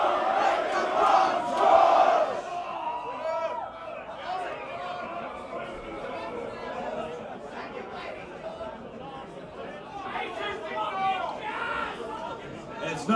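A concert crowd at a live metal show at the Underworld in London shouts together in loud unison. The massed voices surge in waves over about thirteen seconds, with a rowdy babble between the shouts.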